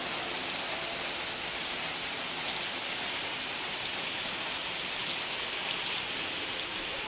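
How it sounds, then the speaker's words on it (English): Heavy rain falling at midnight in Maryland, a steady dense hiss of drops pattering on surfaces with no let-up, continuous and fairly loud with no voices. "it decided to rain pretty heavily"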